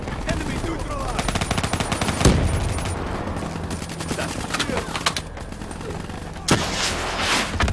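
Rapid automatic gunfire in Black Ops 3 rattles almost continuously, loud and close, with heavier single shots standing out, while voices speak over the battle.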